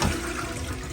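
A hotel bathroom toilet flushes after its push button is pressed, a steady loud rush of water filling the short stretch with no talking.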